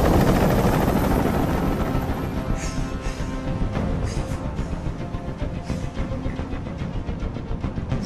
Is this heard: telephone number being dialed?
no